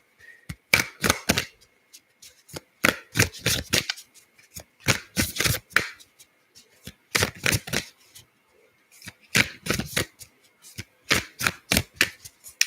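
A Nature's Whisper Oracle card deck being shuffled by hand in close, crisp riffling bursts separated by brief pauses, repeated about eight times without any talking.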